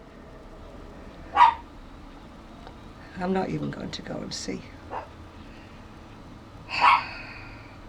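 A dog barks twice, a few seconds apart, moderately loud and a little distant, with a person speaking quietly between the barks.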